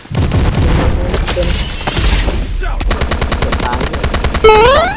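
Rapid gunfire and explosions from the Delta Force Mobile shooter game, with dense bursts of automatic fire, repeated sharp shots and a loud blast near the end, sustained and loud throughout.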